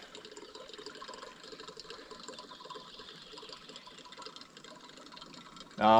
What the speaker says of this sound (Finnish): Vettä sateilee